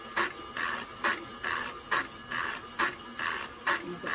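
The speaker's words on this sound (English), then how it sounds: "So right now in my mixer, I've just got my 1 cup of butter. I just got it mixing on low." An electric stand mixer beats a cup of butter on low speed, a steady motor hum broken by regular thumping pulses about every half second, close and alone.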